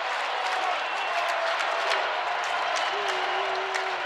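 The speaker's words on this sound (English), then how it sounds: "The crowd is on its feet." A basketball arena crowd roars and cheers nonstop during the closing minutes of a Michigan vs Michigan State Big Ten Tournament final, loud and dense throughout, with a commentator calling play over it.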